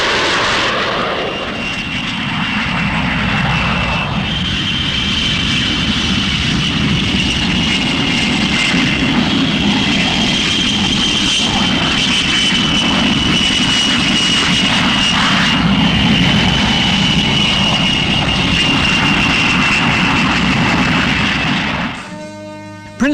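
A Panavia Tornado jet, built jointly by Britain, Germany and Italy, roars steadily overhead, loud and continuous for about twenty seconds before the noise cuts off abruptly near the end.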